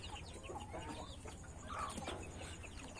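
Chickens clucking outdoors, with soft, scattered clucks and bird calls near and far over a low, steady background hum.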